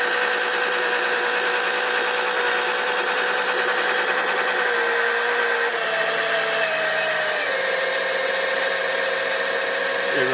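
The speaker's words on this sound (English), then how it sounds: "you can hear it really putting a load on this pump compared to when I use it to pump out the motor oil" A small electric oil extraction pump strains under load drawing thick gear oil, giving a continuous loud whining motor drone whose pitch sags and wavers as the pump labors, steady throughout with no talking.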